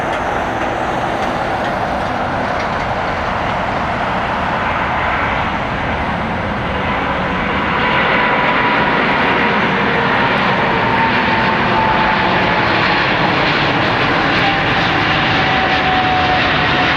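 Jet engines of a freighter plane at LAX give a loud, continuous broadband roar that builds slightly over about seventeen seconds, heard from the airport surroundings.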